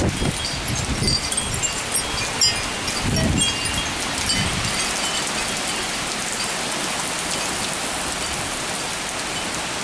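Heavy thunderstorm rain pours steadily on a truck, a dense hiss of drops drumming on a surface, with a few louder low gusts or rumbles early on.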